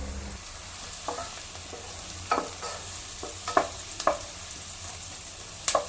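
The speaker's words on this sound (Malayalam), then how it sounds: "ബ്രൗൺ കളർ അടുത്താവുമ്പോൾ ആ പാകത്തിൽ നമ്മൾ സോട്ട് ചെയ്ത് കൊടുക്കണം" Ingredients for mutton mandi sauté in a pan with a soft, steady sizzle, broken by several sharp scraping stirs of a spoon spaced a second or so apart.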